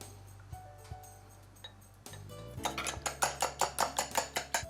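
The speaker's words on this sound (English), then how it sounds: "Just whisk the egg." An egg whisked in a bowl for skillet ricotta mini-meatloaves: after some quiet ticks, a steady run of rhythmic clinking strokes, each a bright metallic tap against the bowl, close and fairly loud.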